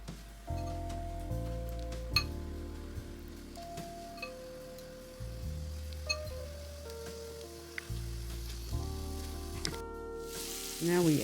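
Butter and olive oil sizzling steadily in a pan for shrimp and fonio grits, a soft continuous crackle under a sustained tonal hum, with a faint clink near the end.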